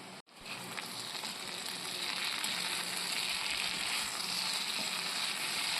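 Grated coconut, curry leaves and potatoes frying together in a pan while being stirred, a loud, even, continuous sizzle that follows a short thump at the start and carries on without any voices.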